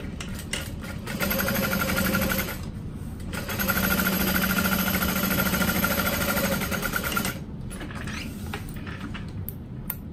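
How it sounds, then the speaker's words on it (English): A sewing machine top stitches a barrel bag at a long stitch length, with two steady rhythmic runs of close mechanical whirring separated by a short pause, then lighter handling noise. "I'm going to switch my stitch length to a five and I'm going to top stitch it"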